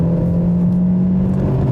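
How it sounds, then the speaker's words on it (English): A 2016 Kia Optima's engine strains at full throttle in manual mode, a loud, steady, droning hum with a strong low tone heard close up from inside the car. "There you go, flooring it."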